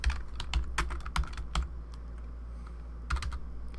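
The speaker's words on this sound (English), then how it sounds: "I'll just type in open late" Quick irregular keystrokes on a computer keyboard, each tap crisp and close, in short runs with a pause before a final cluster, quiet and without talk.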